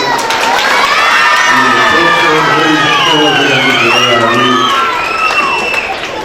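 Children cheer joyfully at a Pongal festival in Tamil Nadu, a loud dense crowd of young voices shouting and whooping continuously and close up.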